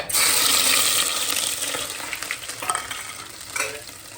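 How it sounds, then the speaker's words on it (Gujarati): Mustard seeds, cumin and ginger-garlic paste sizzle loudly in hot oil at the start of a Gujarati sweet corn curry, a dense close crackle that eases slightly with faint stirring scrapes, without any talking. "તો તેલ આવી ગયું છે તો આપણે નાખી દઈએ રાઈ."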